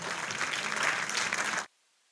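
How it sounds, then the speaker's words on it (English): An audience applauding an award recipient at an agricultural conference, dense clapping that holds steady and loud for about a second and a half, then stops abruptly. "Kindly give the awardee a huge round of applause."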